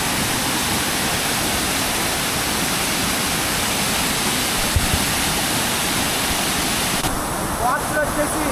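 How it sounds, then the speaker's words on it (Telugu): A waterfall at Devarapalli near Vizag rushes in a steady, loud, continuous roar of falling water, close by and unbroken throughout. "చింటూ బ్రో దగ్గరుండి సక్సెస్ఫుల్గా వాటర్ ఫాల్కి తీసుకొచ్చేసాడు."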